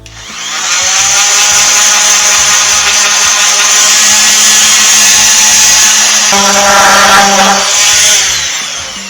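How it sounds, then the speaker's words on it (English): A power grinder working the blade of a homemade knife, a loud continuous high-pitched whine lasting about eight seconds that shifts slightly in tone as the blade is pressed, close, with no talk. "A little bit of grinding up here on top."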